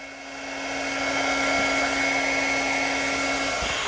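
A heat tool melting embossing powder blows a steady, whining rush of air that swells slightly at the start, then holds evenly and loudly up close before cutting off at the end.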